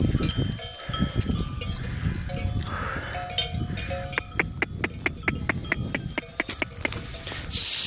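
A flock of sheep moving along with scattered bleats, a clinking bell and shuffling hooves, fairly close and steady, with an occasional voice.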